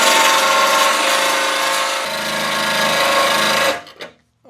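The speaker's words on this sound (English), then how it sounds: "Let me hit this with the grinding wheel or the cutoff wheel." A grinding or cutoff wheel scours rust off the metal of a 1972 Super Beetle, a loud continuous abrasive rasp that holds for several seconds, then cuts out abruptly to quiet with a brief trailing clatter.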